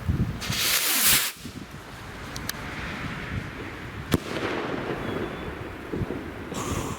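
A loud crackling burst of fireworks rockets opens, followed by sharp pops and a lingering hiss of sparks, with scattered bangs later, set off outdoors the day before New Year's Eve.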